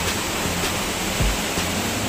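Waterfall at Susarondi near Nivoshi, Guhagar, falling water making a loud, unbroken roaring rush throughout, close and steady with a brief low thump midway.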